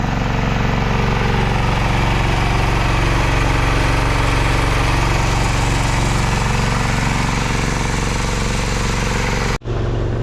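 Petrol generator running beside a water well being drilled for drip irrigation, a loud, steady engine drone close by for about ten seconds, cut off abruptly near the end, with no voices.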